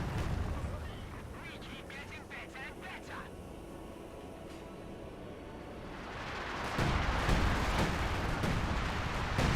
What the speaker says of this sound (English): Another Soviet artillery barrage.